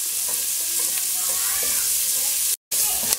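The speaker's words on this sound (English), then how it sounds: "and a julienned onion, and you're going to cook this until the vegetables are to your liking" Peppers and julienned onion fry in a pot with a steady, close sizzle and occasional stirring, broken by a brief silent gap near the end.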